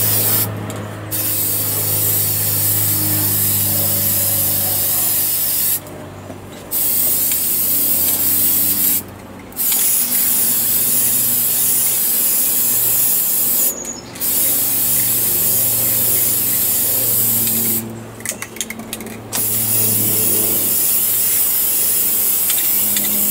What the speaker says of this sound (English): I'm just gonna start spraying on this so you guys can see.